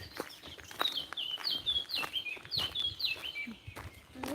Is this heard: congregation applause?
no